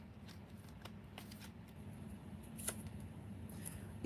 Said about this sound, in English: let's go ahead and pull a Light Keeper card to finalize this reading